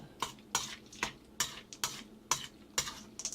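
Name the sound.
mixing toasted nuts into vermicelli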